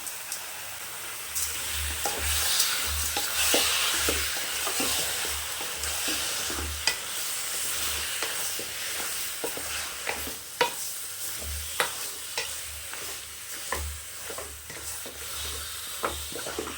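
Pieces of mutton frying in oil for a mutton varuval and being stirred in the pan: a steady loud sizzle throughout, with frequent scraping and knocking from the spoon against the pan.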